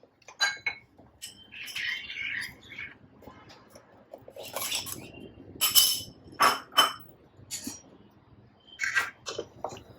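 Gelatin mixed into a pineapple souffle base in a pot, giving intermittent metallic clinks and scrapes of a spoon against the pot, close and moderately loud with brief pauses.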